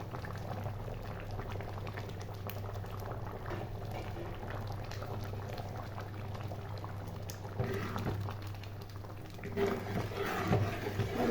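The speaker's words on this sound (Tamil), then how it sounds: "வெள்ளத்தை சேர்த்து இன்னும் கொஞ்சம் நல்லா சுண்டி வறுக்கும்" Citron pickle cooks with jaggery in a pan, bubbling and sputtering steadily at close range, the thick simmer growing a little louder and busier toward the end.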